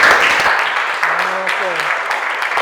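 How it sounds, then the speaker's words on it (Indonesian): Clapping from a classroom audience for a student after a Torricelli water-jet experiment, brisk and continuous throughout, with a voice briefly speaking over it partway through. "Tepuk tangan yang meriah dulu untuk Irvin"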